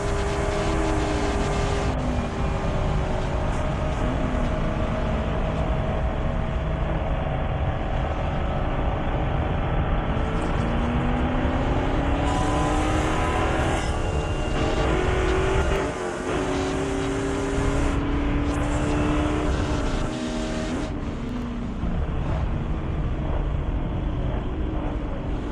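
Spec Corvette race cars at Daytona International Speedway roar past continuously, with overlapping engines rising and falling in pitch as they accelerate and brake through a chicane.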